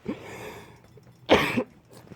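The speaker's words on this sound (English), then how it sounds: "Excuse me for coughing." A single sharp cough after a faint throaty sound, close and brief, with quiet pauses around it.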